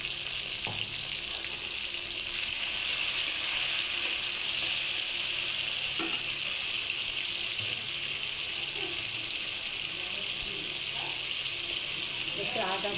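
Tomato fries in a pan with salt, giving a steady close sizzle with occasional soft stirring clinks throughout.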